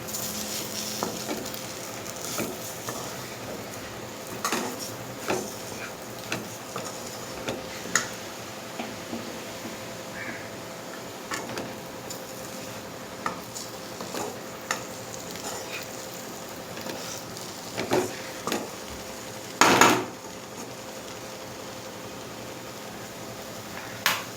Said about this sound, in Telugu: ఇలా అయితే కొంచెంసేపు ఫ్రై చేసుకోవాలి.